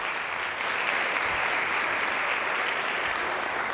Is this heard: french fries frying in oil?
no